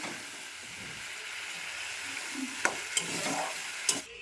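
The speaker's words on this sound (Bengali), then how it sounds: "ভেন্ডি আলু টমেটো দিয়ে মটরশুঁটি দিয়ে মাছের রান্না করবো তাই এই যে তরকারি বসিয়ে দিয়েছি" Fish curry with okra, potato, tomato and peas cooks in a pan, making a soft, steady simmering sizzle with a few sharp clinks of a utensil near the end and no talk.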